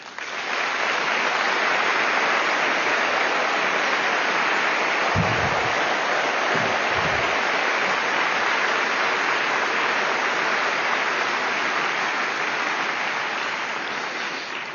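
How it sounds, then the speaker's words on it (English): Dense, sustained applause from a large crowd at a political rally, loud and continuous for the whole stretch, with a few low thumps partway through. "So may I please ask, as a thank you, an applause for yourself."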